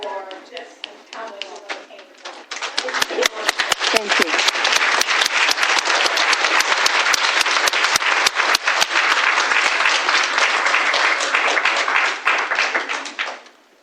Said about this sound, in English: if we could refrain from applauding every time, that'll help us get through it